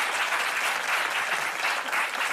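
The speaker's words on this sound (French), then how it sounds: "On applaudit très fort." Studio audience applauding on a French television show, a dense, steady wash of clapping that stays loud and even throughout, with no voices over it.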